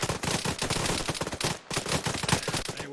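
A squad opens fire in the military shooter Arma 3: dense, overlapping rifle shots crackle in a loud volley, break off briefly, then resume just as heavily.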